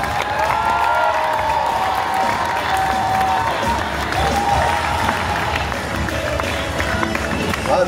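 Loud continuous clapping and cheers from an audience at a chocolate fashion show during a chocolate fair, a dense steady wash of applause with scattered whoops and crowd voices mixed in.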